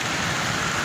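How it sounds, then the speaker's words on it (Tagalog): Heavy rain pours down in Baguio on a foggy road during a storm, a dense, steady hiss of downpour with no breaks, loud and close throughout. "Lakas talaga ang ulan dito sa Baguio, talagang binabagyo ang Baguio"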